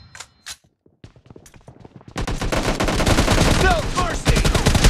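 Gunfire in the video game PUBG, bursts of automatic shots rattling loud and dense after a quieter opening of scattered clicks and steps, with a brief sound effect mixed in.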